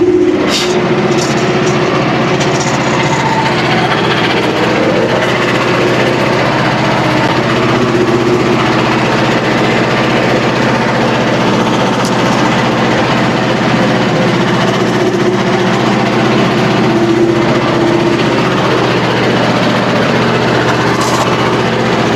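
A Frontier OS27 sawmill cuts a 24-inch white pine log into three-quarter-inch boards, a continuous loud engine drone with a rough, steady sawing tone and no pause across the whole stretch.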